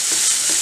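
Mixed vegetables with ginger and cashew paste are stirred in a pan, giving a loud, continuous close sizzle with a soft scrape of the spoon passing twice.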